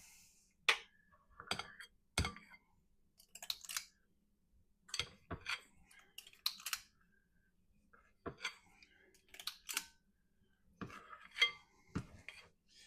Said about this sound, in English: we're going to take our handy dandy ice cream scoop and scoop out clumps